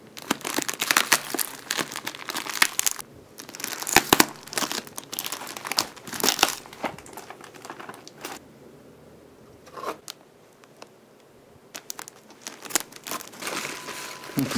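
Plastic wrap crinkles and rustles in close, irregular bursts, loud then quieter, with pauses as it is handled and pulled apart.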